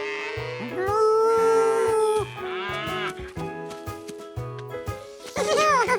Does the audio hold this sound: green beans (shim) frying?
no